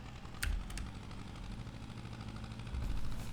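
A restored Władimirec tractor engine running, a steady close low-pitched idle rumble with a rapid ticking rhythm and a couple of brief sharper clicks.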